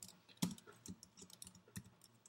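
Several light keystrokes click on a computer keyboard at a desk, quiet and close, in an irregular sparse rhythm with one sharper tap standing out.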